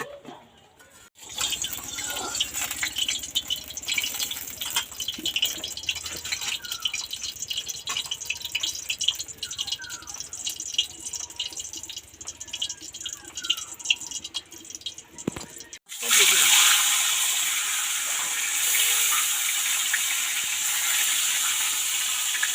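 Boiled bottle gourd curry is poured from a pot, a wet hissing, dripping stream with small splashes running for most of the clip, then a louder, brighter rush of liquid near the end.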